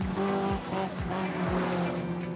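Subaru Legacy 2000cc one-make race cars roar past close on a circuit in quick succession, engines rising and falling with tyres squealing through the corner.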